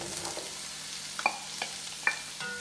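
Onions sizzling in melted butter in a pan, a faint steady frying hiss broken by a few sharp clicks of a utensil stirring against the pan, with no voices.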